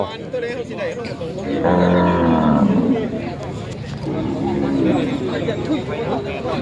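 Cattle low loudly at a busy livestock market in Vietnam, with one long moo standing out over the sustained babble of traders talking and bargaining nearby.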